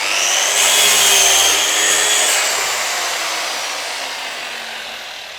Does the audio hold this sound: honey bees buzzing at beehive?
no